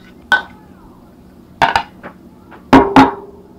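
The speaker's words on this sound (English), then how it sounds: "we can add our mashed bananas" Mashed bananas go into banana bread batter in a bowl, giving a few scattered clinks and knocks of a utensil against the bowl, close and sharp amid quiet.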